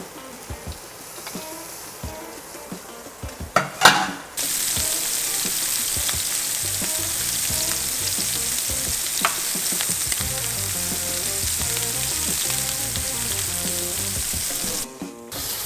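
A blackened grouper fillet sears one side down in a pan on high heat, giving a loud, steady frying sizzle that holds for most of the stretch after a few brief clatters at the start.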